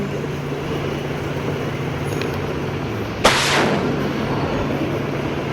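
A single sharp tank cannon blast in the game Dude Theft Wars, one loud boom with a short decaying tail over a constant low engine rumble, with no talk.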